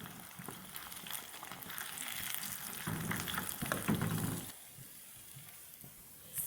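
Fish frying in a pan of hot oil gives off a steady, dense sizzle with crackling bursts that swell midway, then settle into a quieter, even hiss.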